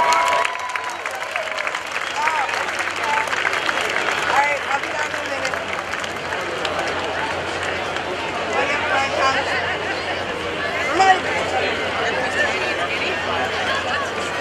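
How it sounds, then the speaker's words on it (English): A crowd at a naval air station airshow applauds and cheers for a wing walker, a long steady patter of clapping with chatter and speech mixed in throughout. "Give a huge round of applause for Sam."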